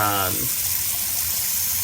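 Water runs from a tap into a kitchen sink, a loud, steady gushing rush that follows a brief spoken voice at the start.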